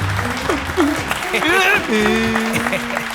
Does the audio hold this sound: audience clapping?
yes